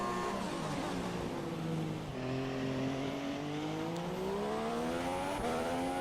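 An F1 race car engine at the German circuit in the F1 2016 video game screams at high revs. Its pitch sweeps up, dips at a gear change, then climbs again in one continuous loud drone.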